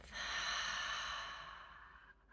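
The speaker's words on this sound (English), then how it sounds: "And exhale through the mouth." A slow, steady exhale through the mouth during a guided calming breathing exercise, one soft breathy rush that fades out over about two seconds, close and quiet with no talking.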